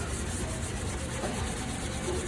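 A scrubbing pad rubs back and forth across a surface in a close, continuous, gritty scratching that stays even and moderately quiet throughout, with no talking.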